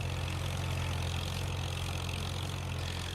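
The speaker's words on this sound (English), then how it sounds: "maybe the sound doesn't match this tractor exactly right either" A 1962 tractor engine in a farming video game idles steadily, its low rumble running unbroken and fairly loud, with no talk over it.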